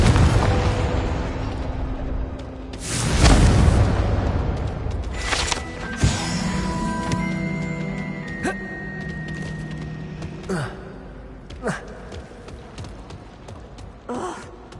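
A Confringo fire spell goes off in the Hogwarts Legacy video game with a big booming blast, followed by sharp magical pops, crackles and ringing tonal shimmer that decays over several seconds.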